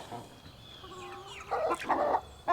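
Chickens cluck and squawk in short bursts nearby, with overlapping calls from several birds and a faint background hum.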